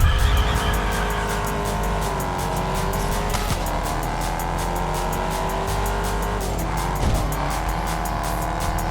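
Race cars roar continuously in Test Drive Unlimited Solar Crown, with engine tones rising and falling through gear shifts and brief tire squeals around the 3.5 and 7 second marks, loud and close with no talking.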